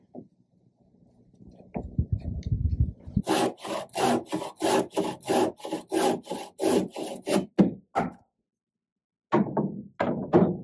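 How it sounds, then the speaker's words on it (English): A handsaw cuts wooden roof rafters to length on a log cabin build, about a dozen rhythmic back-and-forth strokes, close and loud, then a pause and a few more strokes. "So I'm going to cut off my roof rafters, proper length, leave an inch of overhang for the last board."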